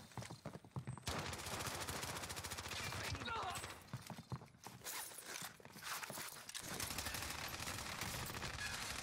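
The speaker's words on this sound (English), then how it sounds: "Sustaining fire here." Rapid sustained gunfire in the shooter Warzone, loud and close, with dense bursts running almost without a break and short gaps, while voices talk faintly underneath.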